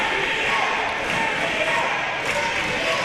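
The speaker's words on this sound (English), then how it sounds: "And listen to this crowd, electric." Packed crowd at an independent wrestling tag team title match, roaring and cheering loudly and continuously, an energetic din close around.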